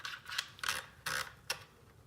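Several short clicking, ratcheting bursts come from a shotgun barrel clamp attachment with an indexed texture being screwed down on a Benelli Supernova Tactical, each click close and crisp with small gaps between.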